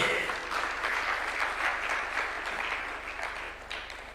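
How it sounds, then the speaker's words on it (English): Audience applause at a State House event in Kenya, sustained crowd clapping that stays even and fairly full before gradually easing, with a low hum underneath. "A round of applause for Mzee."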